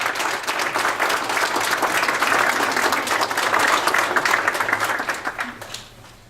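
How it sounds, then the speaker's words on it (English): A graduation audience at a Vermont corrections academy ceremony gives itself a round of applause, a loud, dense burst of many hands clapping that holds steady for several seconds, then thins and tapers off near the end. "Give yourself a round of applause."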